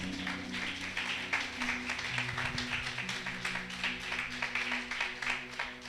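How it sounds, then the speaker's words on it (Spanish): Applause from a church congregation during a Spanish-language sermon, a steady wash of clapping running throughout with a low sustained tone beneath it. "Denle un aplauso al Señor."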